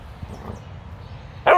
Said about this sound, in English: That's a big boy bark